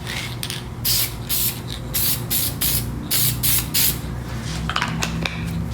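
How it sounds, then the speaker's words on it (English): Repeated short bursts of spray adhesive hissing onto a screen-printing palette, about a dozen quick puffs in an irregular rhythm, close up with faint clicks at the end. "and then lightly spray the palette"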